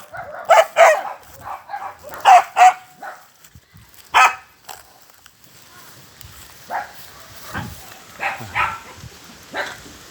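A barangay dog barks in several sharp, loud bursts at close range, then gives softer yips and whimpers spaced out over the rest of the stretch.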